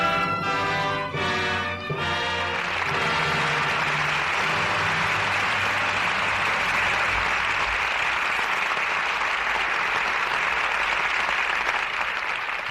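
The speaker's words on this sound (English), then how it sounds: "Your applause rings down the curtain on Lydia" Studio audience applause at a radio theater broadcast swells up after a closing music chord and continues as a full, steady roar of clapping.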